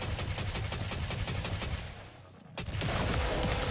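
Rapid bursts of gunfire in Contra: Operation Galuga crackle in a steady rhythm, pause briefly, then resume with a sharp shot and continued firing.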